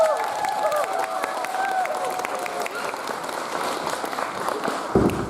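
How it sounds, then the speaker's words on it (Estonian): Audience applause at a school Christmas party, dense steady clapping with some cheering filling the hall for several seconds, with a sustained tone over the first half. "Teeme neile suure aplausi."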